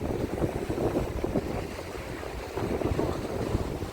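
Steady rush of Baltic Sea waves at Hel beach, Poland, in autumn, with wind buffeting the microphone, continuous surf noise at moderate level, no voices.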